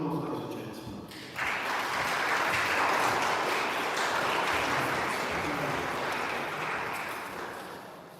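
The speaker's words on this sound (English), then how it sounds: "Let's have some applause, ladies and gentlemen." An audience at an honouring ceremony breaks into applause after a brief spoken introduction, the clapping swelling quickly into a broad, steady roar of many hands before gradually tapering off.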